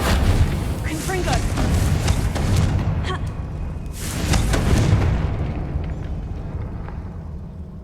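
Spell blasts in the Hogwarts Legacy video game, several deep booming explosions with a second big burst midway, over constant game ambience and music.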